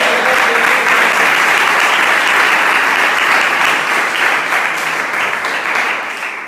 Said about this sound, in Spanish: Denle una ofrenda de aplausos.